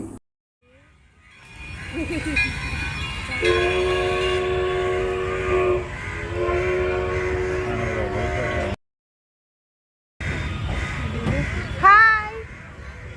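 A mini train ride at a park in the evening rumbles along with repeated horn or whistle tones, a brief cut in the middle, and children's voices audible at moments.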